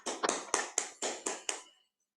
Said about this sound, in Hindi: जोरदार तालियों से स्वागत कीजिए प्रथम भाषणकर्ता टोस्ट मास्टर संदीप देशमुख जी का।